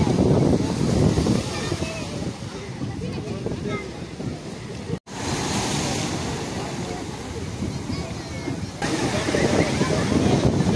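Sea waves roll and wash onto the shore at Digha beach in loud, continuous surges, with wind buffeting and faint voices in the background.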